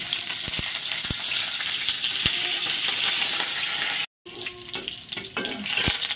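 Dried red chilies crackle and sizzle in hot mustard oil in a wok, a steady frying hiss punctuated by sharp pops and a brief stir near the end.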